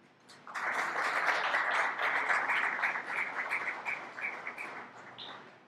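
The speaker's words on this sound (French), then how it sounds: "je vous demande d'applaudir" Sustained, dense applause from an audience at an award ceremony in a hall, rising quickly and holding steady before thinning slightly toward the end, with no speech over it.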